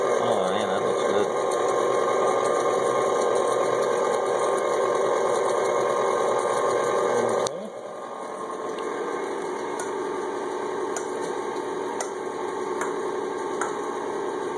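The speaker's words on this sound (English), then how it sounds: "Let that blend thoroughly, get as good and blended as we can get it." An electric mixer blends chocolate Coca-Cola cake batter, giving a loud, steady motor whir that drops to a softer, lower hum halfway through and then runs on evenly.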